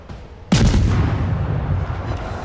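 A single heavy boom of warship guns firing in the naval video game World of Warships, a sharp loud blast followed by a long rumbling decay, with no speech.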